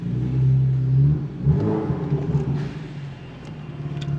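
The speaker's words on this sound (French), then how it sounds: "Enfin écoutez le son un peu du véhicule." A BMW M2 LCI with 370 horsepower, manual gearbox and emptied muffler rumbles loudly nearby, its engine swelling in a short rev before settling into a steady, throaty drone.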